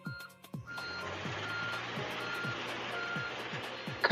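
A garbage truck's reversing alarm beeps in a steady, regular rhythm, about two beeps a second, heard at moderate distance over a low engine drone and outdoor background noise.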